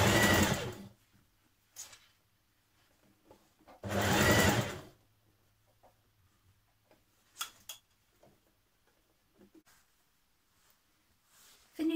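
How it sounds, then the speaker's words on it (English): A home sewing machine stitches the underarm part of a dress facing in two short bursts of rapid whirring, with quiet pauses and light handling clicks between them. "I'm going to stitch this underarm"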